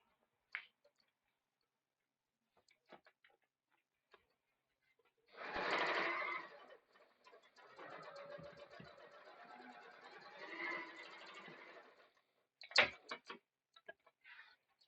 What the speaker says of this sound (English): I'm just going to sew 3/8 of an inch on both of those edges and reverse my stitch